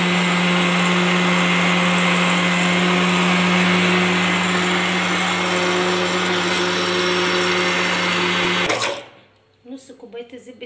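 A blender runs loudly and steadily while whipping homemade hazelnut Nutella as oil is added, a constant motor whine that cuts off abruptly near the end, leaving faint sounds.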